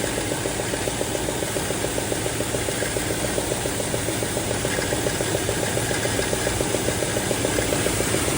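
A 1971 Dodge Super Bee idling with a suspected fuel pump fault, producing a steady, close engine drone with a fast, even ticking vibration throughout.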